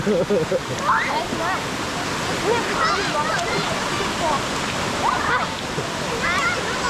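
Tat Sae waterfall near Luang Prabang, with its emerald pools, roars as a steady broad rush of falling water while people chatter and call out over it nearby.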